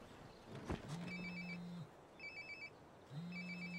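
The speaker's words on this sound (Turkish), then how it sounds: "Aa, telefon çalıyor." In the game Life is Strange: Before the Storm, a telephone rings in two clear electronic trilling bursts separated by a pause, set against a soft hum with a brief click beforehand.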